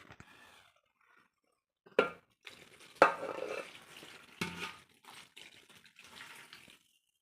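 Homemade Telugu-style mango pickle being stirred together with oil in a bowl, with wet, intermittent scraping and squelching strokes that come in short bursts and pauses, close and fairly quiet.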